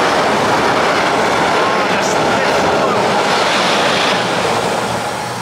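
Train crossing a loud railway bridge, a dense, roaring wash of noise close by and loud throughout, fading only slightly at the end.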